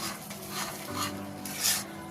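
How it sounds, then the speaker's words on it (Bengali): Spoon stirring cauliflower korma as it fries in a pan, giving soft scraping strokes over a steady close sizzle, with a brighter clink or scrape near the end. "আবারও নাড়াচাড়া করে নিচ্ছি"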